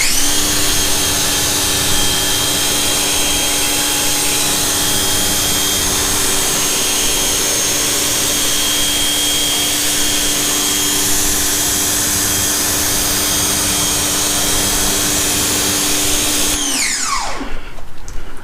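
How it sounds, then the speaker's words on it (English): Water sprayed to rinse the tires of a 2020 GMC Sierra AT4 makes a steady, loud, whining hiss that holds constant, then abruptly cuts off near the end. "we can give them a rinse here"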